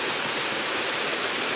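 Waterfall at Paronella Park, a steady broadband rush of falling water, fairly loud and continuous without pause, with no voices over it.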